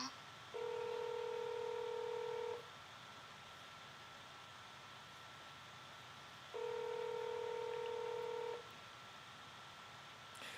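Outgoing telephone call ringing through a line: two clean ringback tones, each about two seconds long and spaced several seconds apart, over faint steady hiss.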